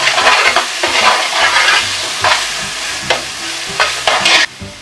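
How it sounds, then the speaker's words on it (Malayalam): Green chillies fry loudly in a pan for Kerala beef biryani, a close, continuous sizzle with repeated scraping stirs and utensil knocks across the whole stretch. "അതുകൊണ്ട് കുറച്ച് കൂടുതൽ പച്ചമുളക് ഇട്ട് നന്നായിട്ടൊന്ന് ഇളക്കി കൊടുക്കാം."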